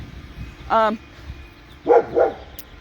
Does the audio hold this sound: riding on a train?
no